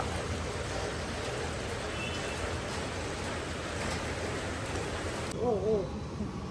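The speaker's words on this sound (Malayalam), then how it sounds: "ഭയങ്കര മഴ" Heavy rain pours steadily as a dense wash of noise, then cuts off abruptly near the end as a brief voice-like tone appears.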